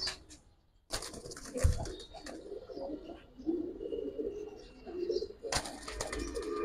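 Giribaz colouring pigeons coo in low, murmuring rolls close by, with brief rustling and wing-flutter bursts at the start and near the end.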